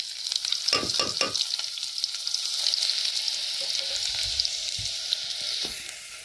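Garlic, then onion, hits hot oil in a pan on a wood-fired village chulha, producing a bright crackling sizzle with a few sharp spatter bursts early on before it settles into a steady fry.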